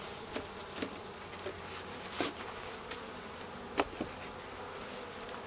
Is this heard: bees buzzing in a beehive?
yes